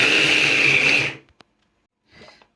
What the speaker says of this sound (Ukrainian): Це все ми перебиваємо в блендері